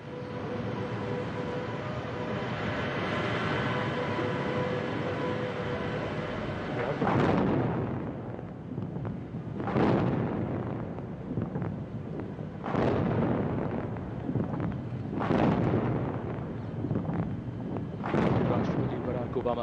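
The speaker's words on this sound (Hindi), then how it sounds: "राष्ट्रपति बराक ओबामा के सम्मान में 21 तोपों की सलामी दी जा रही है।" Ceremonial 21-gun cannon salute honouring President Barack Obama at a guard of honour arrival: a series of heavy booming shots at steady intervals of a few seconds, each with a long rumbling decay, over a steady outdoor background.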